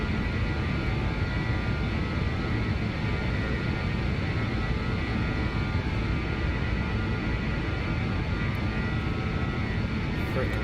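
Steady, loud jet engine drone from a BAE 146 airliner held at maximum continuous thrust in a flight simulator game, a dense continuous roar with constant hum and no break across the whole stretch.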